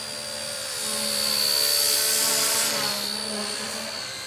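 XK K123 AS350 RC helicopter flying, a steady high-pitched rotor and motor whine that swells louder as it passes nearer, then eases off.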